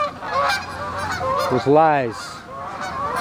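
Geese in Utah honking, several loud nasal calls close by, one long honk standing out, with a voice speaking briefly over them.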